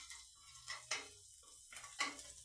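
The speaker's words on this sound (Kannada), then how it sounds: "ಈಗ ಈರುಳ್ಳಿ ಎಲ್ಲ ಚೆನ್ನಾಗಿ ಬ್ರೌನ್ ಕಲರ್ ಬರಬೇಕು, ಅಲ್ಲಿನವರೆಗೂ ಚೆನ್ನಾಗಿ ಫ್ರೈ ಮಾಡ್ಕೊತೀನಿ" Onions frying in a pan until brown while a spoon scrapes and stirs, with a few sharp metallic scrapes standing out over a soft sizzle, heard close and without talk.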